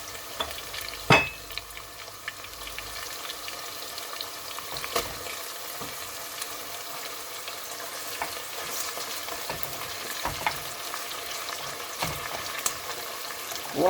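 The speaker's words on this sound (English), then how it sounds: "Then the meat will fry with it." Meat frying together with onions in a pan while carrot rice is cooked, a low, steady sizzle with occasional stirring scrapes and clicks and no voices.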